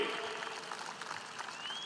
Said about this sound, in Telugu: మీరు కూడా గట్టిగా చప్పట్లు కొట్టి ఆశీర్వదించమని